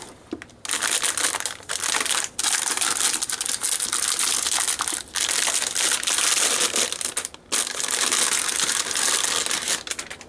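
Cardboard packaging for a dual mini ITX computer build being torn and crushed by hand, a steady close crinkling and ripping that runs almost continuously with a few brief breaks.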